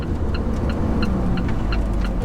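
Alfa Romeo 4C Track Edition engine heard from inside while driving, a steady low droning hum with a faint repeating tick above it, close and continuous.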